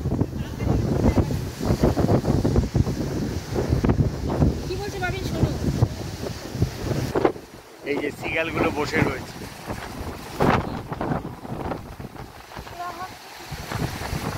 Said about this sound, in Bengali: দাঁড়ানো যাচ্ছে না, এত জোর হাওয়া।